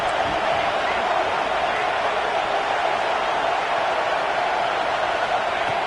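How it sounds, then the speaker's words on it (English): A big football crowd roars to fire up the defense near the goal line, a dense, loud, unbroken wall of stadium noise that holds steady throughout. "this big crowd doing everything possible to inspire this defense down here near the goal line"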